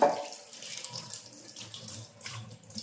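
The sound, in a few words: washing dishes under running tap water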